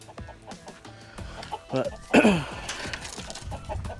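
Chickens cluck in a homemade backyard coop. Soft, scattered clucks and short calls come through, with one louder, nearer squawk midway, while someone talks over them.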